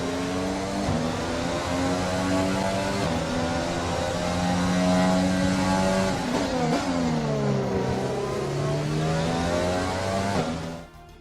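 A Formula 1 car engine in the F1 2020 racing game at Baku, a steady high-pitched whine with shifting pitch as it drives in after the race, loud and continuous before cutting off at the end.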